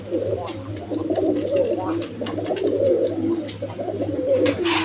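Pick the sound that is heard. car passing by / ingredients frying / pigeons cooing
pigeons cooing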